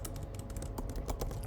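Rapid typing on a computer keyboard while writing code, with dense clicking keystrokes in a fast, uneven rhythm, close and clear, with no talking.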